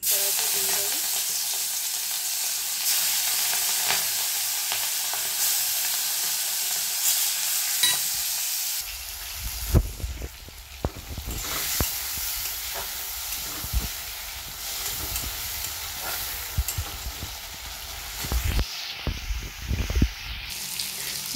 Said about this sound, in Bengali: মাছটাকে কড়াইতে দিয়ে দেব।